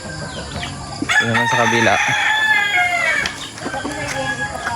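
On a small farm under coconut trees, chickens cluck and a rooster crows loudly nearby in one long call, while a person speaks briefly in the background.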